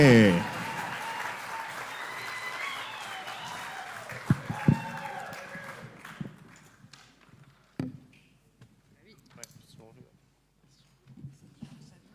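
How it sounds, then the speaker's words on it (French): A live audience applauds slam poets at a French slam competition, a dense wash of clapping that fades over several seconds, with scattered claps, shuffling and a few voices in the quieter tail. "On les applaudit."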